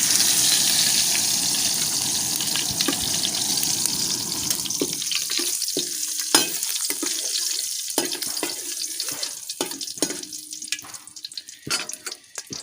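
Mustard seeds and curry leaves in hot oil give a steady, dense hiss that thins out into scattered sharp pops and crackles as the seeds burst in the pan, with no talking.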